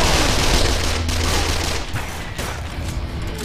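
MP5 submachine gun fire in the shooter video game Call of Juarez The Cartel: loud, dense sustained bursts of rapid shots blending into a continuous roaring fusillade.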